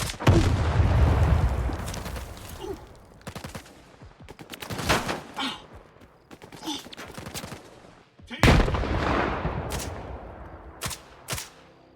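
Gunfire and grenade blasts from a battle in the video game STALKER 2, with bursts of shots and loud booms spread across the clip, the heaviest at the start and again near the middle, separated by brief quieter gaps.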